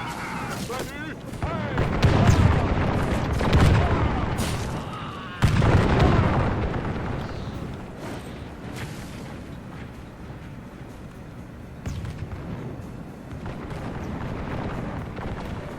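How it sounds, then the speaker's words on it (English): Distant gunfire and booming artillery roll on continuously through a video game battle, with heavier blasts near the start and middle, while someone talks over it. "all these 5 minutes have been just these guys firing at each other"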